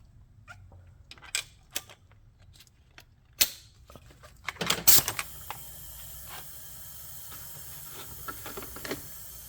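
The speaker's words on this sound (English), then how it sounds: "as soon as I plug this in, it's gonna start pissing air out" Compressed air hisses steadily out of a high-mileage BMW E36 M3 engine during a leak-down test, following scattered clicks and taps as the fitting is connected.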